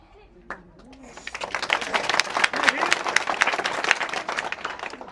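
Audience applause at a political speech builds from a few scattered claps into a dense, steady round of clapping from a crowd, with voices murmuring and calling out beneath it.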